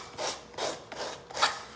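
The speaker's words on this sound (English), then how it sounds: "Sanding off this excess." Sandpaper rubbing excess off a small wooden craft piece, four quiet rasping strokes in a steady back-and-forth rhythm, close up with no talking.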